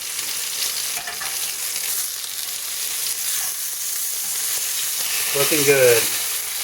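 Ostrich steaks sizzle steadily in a covered frying pan, a continuous bright hiss of frying with soft crackle, and a brief spoken remark near the end.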